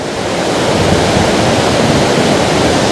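Water rushes hard and steady through the Mannakkudy tunnel in Idukki, a channel carrying stream water toward Idukki dam. The roar is close and loud, a continuous broadband rush with no breaks and no voices.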